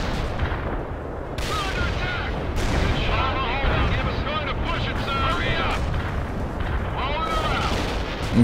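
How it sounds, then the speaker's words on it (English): Heavy artillery bombardment in the real-time strategy game World in Conflict: Soviet Assault rumbles on in dense, overlapping booms and blasts for several seconds, with a voice talking over the barrage. "Yeah, we're gonna do a heavy bombardment here, here, and there."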